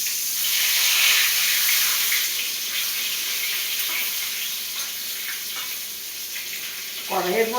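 Large brinjals frying in oil in a wok, producing a loud, dense, steady sizzle that gradually softens, with a brief clatter near the end.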